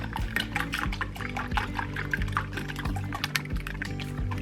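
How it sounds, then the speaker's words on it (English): Scrambled egg poured into a pan of hot melted butter, a continuous liquid sizzle with bubbly splattering and small popping bursts, close and steady. "with your pan, with your nice hot butter melted, pour in your scrambled egg."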